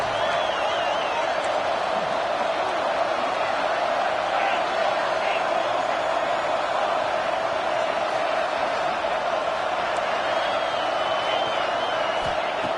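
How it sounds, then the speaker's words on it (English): A large football crowd roars steadily and continuously throughout, a dense wall of cheering in a big open stadium, with no break in the noise. "And here comes the noise. This crowd is trying to inspire this defense"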